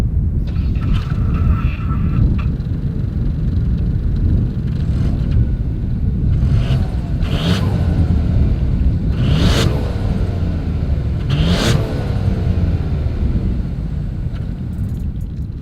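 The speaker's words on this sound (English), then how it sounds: "As always, here is that exhaust clip." 2021 Ford Bronco Sport SUV with dual exhaust, heard up close at the rear as a steady low engine rumble broken by several short throttle blips, all under a constant wash of outdoor noise.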